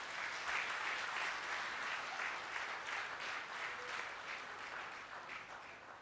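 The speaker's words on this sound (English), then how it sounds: "Let us give them a big round of applause." Audience at an installation ceremony applauding honoured board members, a steady, even wash of many hands clapping, moderately distant and fairly quiet, sustained without a break and easing slightly toward the end.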